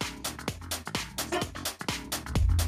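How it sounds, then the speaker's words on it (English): Dance music plays back through a Denon X1800 DJ mixer with the low EQ turned fully off, leaving a thinner, bass-cut mix of steady beats and tones, fairly loud and without any talking. "So here's lows. That's all the way off."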